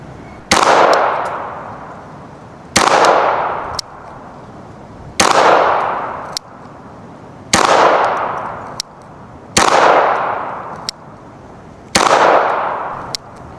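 A Ruger Mark IV 22/45 pistol fires six evenly spaced shots, each a sharp crack followed by a ringing metallic clang as a 12-inch steel plate at 100 yards is struck, with no voices.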